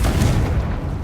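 A deep, booming blast from a Confringo spell in Hogwarts Legacy combat, a loud low-end explosion with a rumbling tail filling the whole second.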